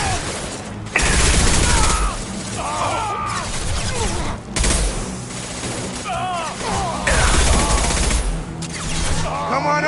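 High-impact gunfire in the Mass Effect 2 video game: loud, dense bursts of shots and booms in several waves over a continuous battle din, with voices shouting amid the firing.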